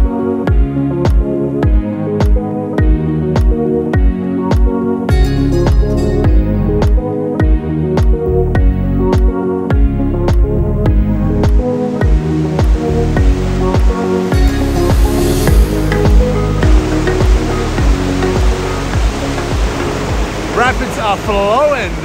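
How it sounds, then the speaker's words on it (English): Bells Rapids near Perth in winter, river water rushing over rocks as a steady, loud, broadband roar, continuous throughout with music playing over it. "Rapids are flowing this morning."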